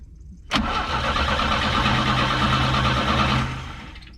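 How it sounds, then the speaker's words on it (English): A 1968 GMC truck engine cranks loud and close for about three seconds with a steady churning rhythm, then winds down without catching. "Okay, cranking. Cranking."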